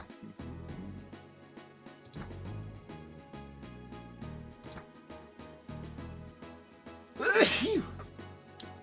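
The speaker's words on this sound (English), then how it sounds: "Sneezing is never normal" One sharp sneeze from a video game character bursts out near the end, loud over steady background music with regular percussive beats.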